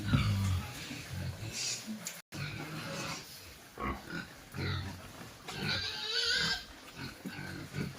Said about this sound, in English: I'm feeding food and water for pig and their babies.